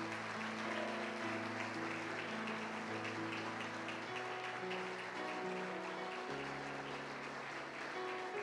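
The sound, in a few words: congregation applauding in church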